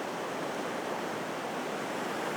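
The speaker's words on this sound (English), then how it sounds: "so I can see a wave coming now" Ocean waves washing up on a surf beach during beach worming, a steady, even hiss of surf and wash, fairly soft and continuous, with no voices.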